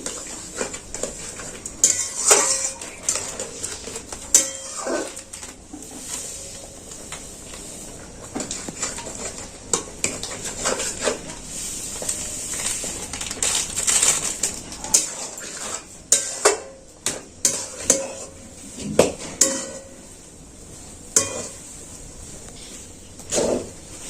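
Semolina stirred a little at a time into boiled potatoes in a pan, with a utensil scraping and clinking against the metal in uneven bursts over a low steady background hiss.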